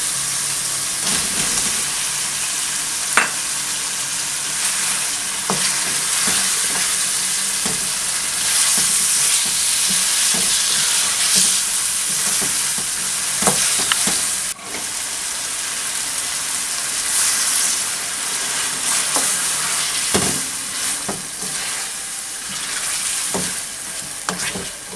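Chicken pieces frying in a pan of softened tomatoes and oil for spinach chicken curry, a steady loud sizzle with intermittent stirring and scraping clatter throughout, no talking.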